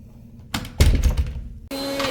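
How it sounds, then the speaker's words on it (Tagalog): A room door is pulled shut while a school is being cleaned, a short burst of movement followed by a solid thunk and a brief rattle. After it settles, a faint steady hum remains, and no one speaks. "sara na po natin ang pinto"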